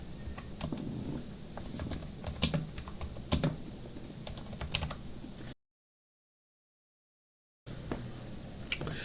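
Rapid, uneven typing on a membrane computer keyboard, soft clacky keystrokes in bursts, then a short silent gap before the typing picks up again.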